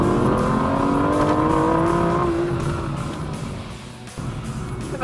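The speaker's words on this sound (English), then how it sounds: "You downshift, it snorts at you, and when you lay into it, it really comes alive" A 2013 Aston Martin V12 Vantage with a manual gearbox on a twisty canyon road gives a loud, close engine snort as it drops a gear. The revs rise and hold, then settle into a lower, quieter burble.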